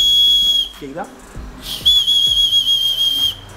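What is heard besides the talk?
small whistle from an emergency survival kit being blown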